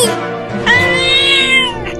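A cartoon cat lets out a loud, close meow that rises and holds for over a second, preceded by a lower vocal sound, with no other voices.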